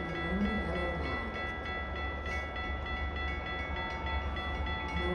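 Metra Milwaukee North commuter train pulling into Lake Cook Road station in a blizzard, a steady low rumble with a sustained tonal hum and faint rail clatter throughout.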